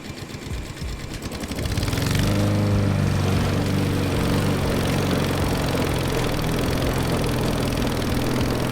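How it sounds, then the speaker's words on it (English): A gas lawn mower engine swells in over the first two seconds, then holds a loud, steady, close drone with a buzzy low-end rumble to the end. No slowdown or cutoff is evident. "So let's go to the gas mower."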